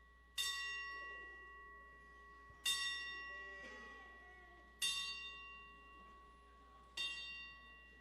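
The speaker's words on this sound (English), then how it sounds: "after we toll the bell 10 times, remain standing for the national anthem." A bell tolls slowly as a ceremonial ten-count at a wrestling show. Four resonant strikes ring out about two seconds apart, each decaying into a long, humming ring with faint background noise.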